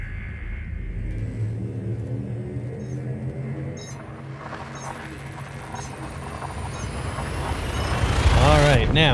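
A spaceship's frame shift jump in Elite Dangerous at full throttle: a steady engine rumble that swells and rises into a loud whooshing surge toward the end, with a narrator talking over it.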